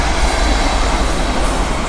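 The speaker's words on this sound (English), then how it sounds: "When the helicopter goes, the train passes by." A nearby train passes a boatyard with a loud, continuous rumble and rolling rail noise, running unbroken from start to finish.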